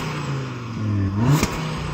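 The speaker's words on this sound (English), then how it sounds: "So I'm going to rev up this car's engine." Audi RS3 five-cylinder engine revving up in a short blip, a close, loud rising engine note that peaks and drops back to a steady idle, with no talk.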